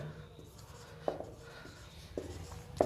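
Chalk or marker scratches on a board while an electric-field formula is written up, soft rubbing strokes with a few sharper taps, close and faint.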